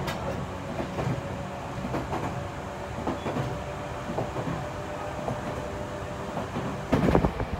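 Heard from inside the carriage, the Chichibu Railway express train Chichibuji rumbles steadily along with rhythmic wheel clatter and a few louder thumps near the end, with no voices.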